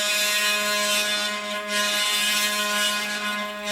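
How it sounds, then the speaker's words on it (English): Stepper motors on a DIY mini CNC machine driven by a GRBL shield run a test move, giving a steady, loud, rough, clicky whine with a constant buzzing drone throughout and no talk. "GRBL shield ready to do some test movements, and it sounds pretty bad, very sort of clicky sounding, not very smooth at all"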